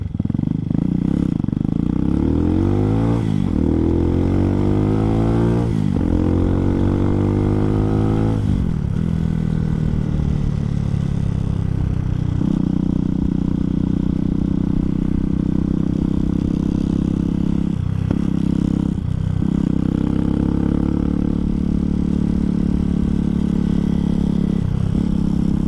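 A 2020 Hawk 250 motorcycle ridden steadily along a road, its engine droning loud and close with rising and falling revs through gear changes, plus brief dips as the throttle eases off, all under constant wind rush.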